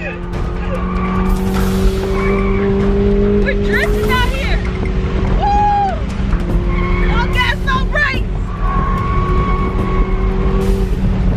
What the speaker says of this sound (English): We're drifting out here.